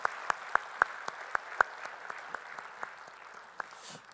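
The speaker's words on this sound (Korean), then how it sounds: "우리 주님께 영광의 박수 올리겠습니다" A church congregation claps at a Sunday worship service. The claps are sparse and distinct at first, a few sharp ones standing out, then thin into scattered claps against a quiet room.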